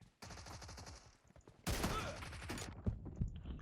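Gunfire in the mobile game PUBG Mobile: rapid automatic bursts rattle loud and close, with a brief pause and then a denser volley and a few heavy single shots.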